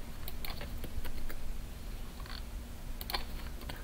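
Soft computer keyboard typing while Python matplotlib pie-chart code is entered, scattered light key clicks arriving in short bursts over a steady room hum, close and fairly quiet, with no talking.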